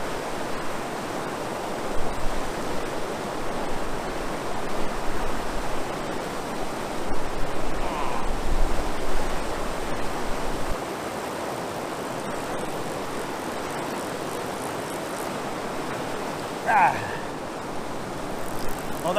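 River water rushes steadily at Blue Hole in Salt Springs, a broad continuous wash of flow that swells a little in the middle, with no talk over it.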